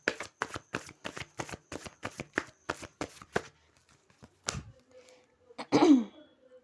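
Tarot cards shuffled in a rapid run of about a dozen crisp riffling snaps, followed by a few separate slaps and slides as cards are drawn and laid down, close and clear with no talking.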